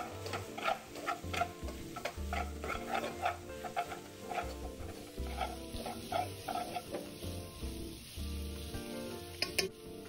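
Stirring and frying in a pan with a spice mix including five-spice powder, steady scraping strokes and sizzle repeating in a loose rhythm, close and moderately quiet, with no voices.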